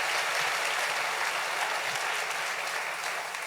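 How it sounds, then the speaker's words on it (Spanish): Church congregation applauding during a sermon, a steady, dense burst of clapping filling the room, sustained evenly throughout with no talking over it. "denle un aplauso fuerte al rey"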